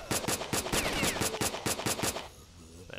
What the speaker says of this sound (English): Oh shit, he's shooting at me.